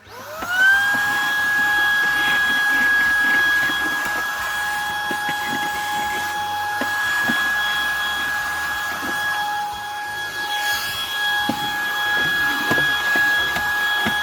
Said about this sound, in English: As ever, you've got to hoover up as you go along.